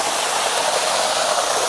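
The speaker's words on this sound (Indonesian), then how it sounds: "jadi kita udah langsung di belakangnya air terjun ya, Govin ya" Waterfall at Pamah View in Langkat roaring steadily from close behind, a dense continuous rush of falling water filling the whole clip at even loudness.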